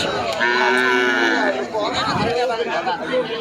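A crossbreed cow at a village cattle market lets out one loud, drawn-out moo close by, followed by people chattering in a busy crowd.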